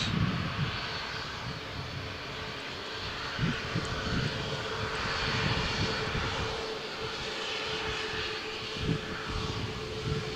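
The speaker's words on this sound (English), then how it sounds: "next departure, Ryanair flight from Malaga to Valencia" A Ryanair airliner departing runway 13 at Malaga Airport on a stormy morning, its engines a steady distant roar with rumbling low-end surges and wind buffeting throughout.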